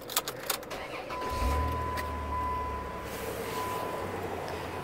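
A vehicle engine cranks and catches, then settles into a low steady idle after a few clicks, with a thin electrical whine running above it and no talking.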